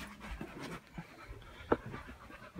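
Pit bull dogs pant softly and rapidly close by inside a cluttered car, with a brief sharp sound partway through.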